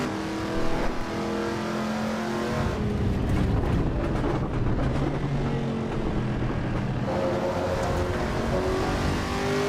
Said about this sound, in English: The car sounds seem pretty good.